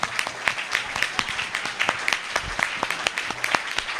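Audience applause at the close of an intergenerational dialogue conference, a steady wash of many hands clapping with sharp individual claps standing out, sustained and fairly even.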